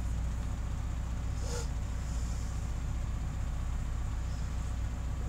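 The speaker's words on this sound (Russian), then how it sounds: "У нас двигатель работает." A restored 1973 VAZ 2102 Zhiguli idles with a steady, low, even rumble that holds unchanged throughout. A single brief higher blip breaks in once.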